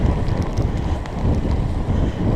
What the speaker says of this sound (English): Wind hasn't died that much. We're in an open field, getting hit with a cross headwind.